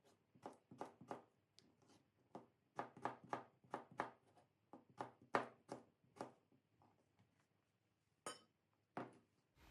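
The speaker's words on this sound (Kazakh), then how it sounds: "Жартылай дөңгелектерді тағы да бір бөліп, осындай кубик тәріздес қылып тураймыз." A knife chops cucumber into cubes on a cutting board, a close series of crisp, rapid thuds in bursts with short pauses between, no talking.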